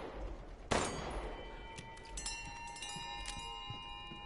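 A bell rung in the video game Resident Evil Village: one sharp strike followed by a sustained metallic ring with several lingering tones, heard over quiet background ambience.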